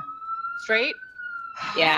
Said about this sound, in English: That is a loud siren.